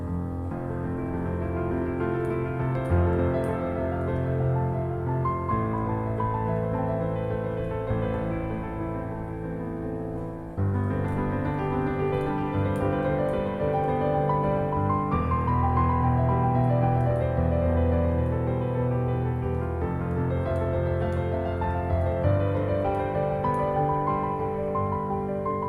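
A piano improvisation exercise played as a flowing, continuous passage of chords and melody, steady and moderately loud throughout, with no talking.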